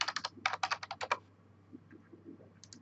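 Rapid typing on a computer keyboard in a quick burst of about a dozen close, crisp keystrokes, then a pause with a few faint scattered clicks and another pair of keys at the end.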